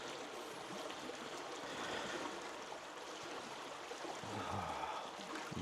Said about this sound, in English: did think the water was gonna annoy me all night, like be too noisy